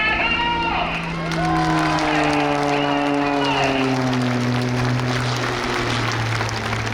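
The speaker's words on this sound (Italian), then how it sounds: "Ci saluta Battito Dali e noi lo salutiamo con un grande applauso, signori." Crowd applause at the Jesolo Air Show 2022 for a CAP 231 aerobatic pilot, a sustained patter of clapping heard under a loud announcer's voice over music that continues throughout.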